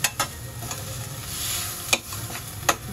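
Moong dal khichdi sautéing in a pan, a steady soft sizzle under a few sharp scraping clicks of a spoon stirring, close and fairly loud with no talk.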